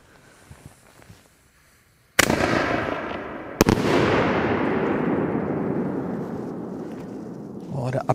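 Single-shot firework mortar tube fired at a fireworks test: a sharp loud bang followed by a second crack and a long crackling, rumbling burst that fades out, with voices faint beforehand.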